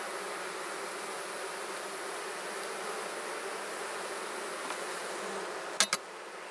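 Honeybees buzz steadily around an open beehive frame being filled with nectar, a dense close hum with a couple of brief knocks near the end.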